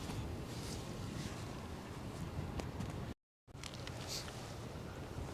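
Gusty wind at Edinburgh Airport on a blustery morning, a constant broadband rush buffeting the microphone, with a brief dropout partway through.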